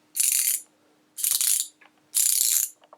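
A Duratech ratchet wrench with a 5-degree swing arc clicks through three separate bursts of fast, fine pawl ticks, each lasting about half a second, heard up close and alone with short pauses between.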